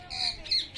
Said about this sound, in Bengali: ওই যে পাখি, টিয়া পাখি ডাকছে,